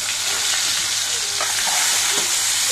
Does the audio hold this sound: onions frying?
yes